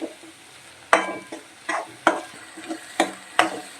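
Garlic sautés in oil in a pan for a Kathiyawadi rotlo, with a constant sizzle broken by repeated scraping stirs of a spoon at a roughly even rhythm, close and fairly loud.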